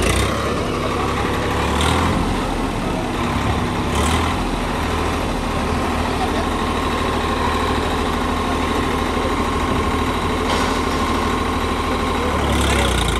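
A New Holland 3630 tractor engine runs steadily with a loud, continuous low rumble and vibration, held at raised revs through the whole stretch, close by with no speech over it.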